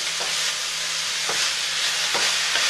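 Broccoli frying with garlic in a pan gives a steady, loud, close sizzle throughout, broken every second or so by soft scraping stirs.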